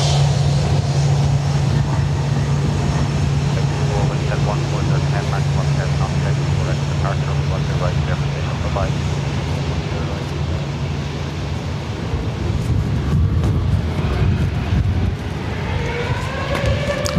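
An Aer Lingus airliner departing Dublin Airport for Paris gives off a loud, steady engine roar and rumble that holds throughout and swells near the end, with a person talking over it at times.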